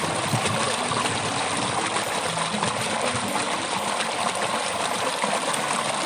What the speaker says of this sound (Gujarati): પાણી ફૂલ આવવા માંડ્યું છે.